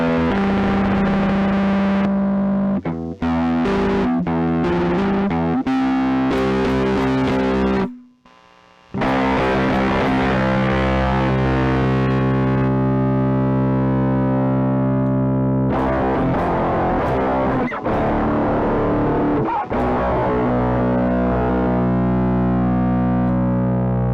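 Electric guitar through a stereo fuzz/drive patch on an Empress ZOIA pedal gives thick, heavily distorted and oddly filtered tones, with choppy stabs early, a brief cut, then long sustained crunchy notes and chords throughout.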